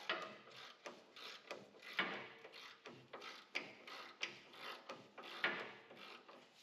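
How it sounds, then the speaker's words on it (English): A 19 mm wrench ratchets off the lower control arm nut on a Toyota 4Runner or Lexus GX470, giving a close, steady run of rapid metallic clicks and clacks in repeated bursts, with no talking. "So now we're going to use a 19 here, and we're going to go ahead and take this"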